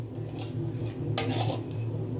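Black cumin seeds being stirred in hot oil for a mustard eggplant curry, a soft sizzle under steady scraping, with one sharp metallic clink of the utensil against the pan, close up.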